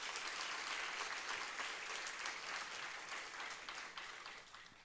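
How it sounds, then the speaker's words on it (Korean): A large church congregation claps steadily for several seconds during a Friday worship service, the applause dense and even before slowly tapering off. "격려의 박수 다시 한번 올려드리겠습니다"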